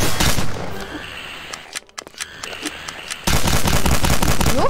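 Rapid automatic gunfire in the Garry's Mod video game bursts out in dense rattling volleys, drops to scattered sharp shots and quieter gaps midway, then resumes loud and sustained.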